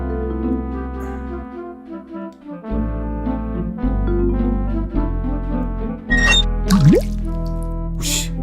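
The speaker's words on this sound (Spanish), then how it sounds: "una gota grande ha caído" A large water drop falls in the adventure video game Day of the Tentacle, with drips and a sliding splash over layered game music and tones, fairly loud and close.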